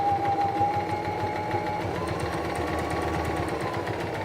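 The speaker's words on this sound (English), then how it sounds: "That's going to stitch down the other side of the buttonhole." A Singer Start 1234 sewing machine stitches down one side of a buttonhole, a loud, steady rapid clatter of the needle running without pause throughout.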